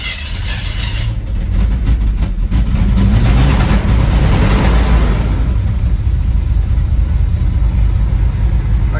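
A square body truck engine idles with a steady low rumble through its new exhaust, swelling into a louder rev midway and then settling back to an even, continuous drone with no talk.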